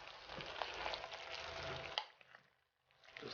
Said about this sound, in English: I'm going to mix it up real good here real quick